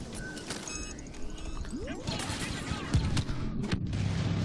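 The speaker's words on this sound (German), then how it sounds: "nette Explosion wieder." Gunfire and a blast from a Star Wars Battlefront beta match, with bursts of weapon fire and a boom stacked over busy battlefield noise, fairly loud throughout.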